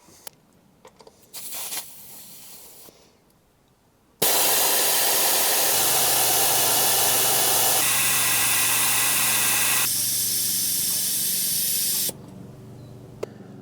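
Air hisses out of a 34-inch Jeep tyre through deflators as a loud, continuous spray-like rush lasting about eight seconds, stopping abruptly after some quieter handling noises at the start.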